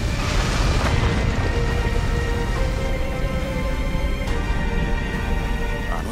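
Anime explosion effect from Attack on Titan: a dense, roaring blast that fills the whole stretch with sustained rumble and crackle, loud and continuous from start to end with no speech.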